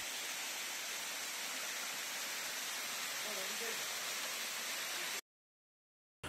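Water from the Nhavankond waterfall near Devgad pours continuously into a pool in a dense, steady rushing hiss, then cuts off abruptly near the end.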